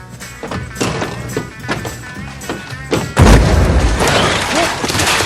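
A loud explosion goes off in a film scene at a racetrack. A heavy boom lands partway through, after busy thumps and voices, and leaves a rumbling wash behind it.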